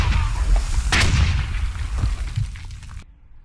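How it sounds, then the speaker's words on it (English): A frag grenade goes off in a squad-based military shooter game, a single loud booming blast with a crackling tail that fades out after a couple of seconds. "He threw a frag."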